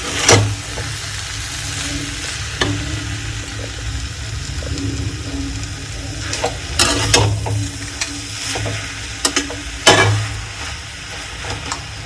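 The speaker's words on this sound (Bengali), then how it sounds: "ব্যাস ভালো করে ওকে কষিয়ে নেব সেই মশলার সাথে" Cabbage sautéed with spices in a pan gives a steady sizzle, with repeated sharp scrapes and knocks of a spoon against the pan, heard up close and alone with no talk.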